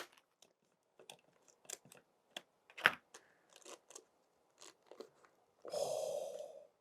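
Several crisp snips and crunches of worn scissors cutting through stiff filter material, irregular and close, followed by a longer rustling tear near the end.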